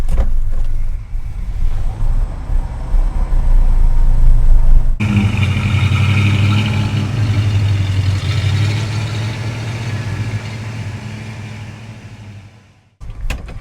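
A 1969 Ford F100 pickup, started for the first time in years, with a few seconds of rough low rumble before its engine catches and settles into a loud, steady run close by.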